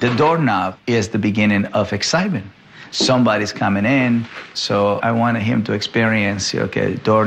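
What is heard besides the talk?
None of the usual background noises is heard.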